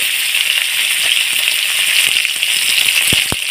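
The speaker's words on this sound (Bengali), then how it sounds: "এবারে আমি এই তেলের মধ্যে আলুগুলো একটু ভেজে নেব" Potatoes frying in hot oil for a Bengali bhetki fish head curry, a steady close sizzle and hiss throughout with a couple of sharp pops near the end, no talking.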